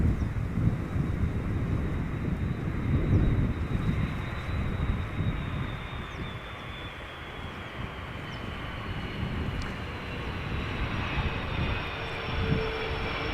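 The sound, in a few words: aircraft passing at Schiphol Airport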